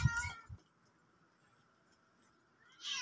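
Cats meow while being given wet cat food, one loud close meow at the start, a short follow-up, then another meow rising at the end, with near silence between.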